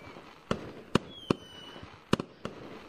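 Fireworks burst in the video game Gorilla Tag, a string of six sharp distant pops spaced irregularly over a faint background hum, with a thin whistling streak between them.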